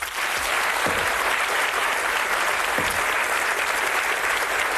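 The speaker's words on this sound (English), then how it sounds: "a warm round of applause needed for Lancashire lad Billy Leonard" Warm applause from a television game-show studio audience greeting a Lancashire darts player, a dense, even roar of clapping sustained throughout.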